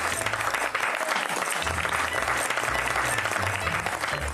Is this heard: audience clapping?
yes